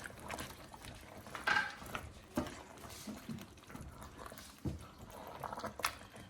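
A spoon mixes coriander and green chili into a lamb and channa dal curry, giving soft, wet, irregular squelches and gentle scrapes, faint and close, with no talking.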